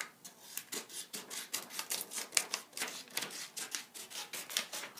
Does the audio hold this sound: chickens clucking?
no